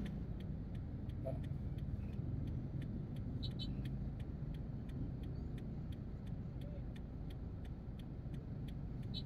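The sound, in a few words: road traffic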